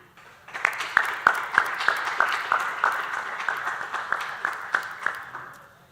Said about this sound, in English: A round of applause for round 3.